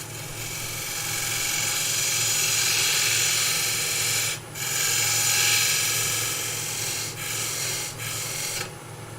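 A turned wooden box is sanded on the lathe, a continuous loud rasping hiss that holds steady with a few brief dips as the abrasive lifts off the spinning wood.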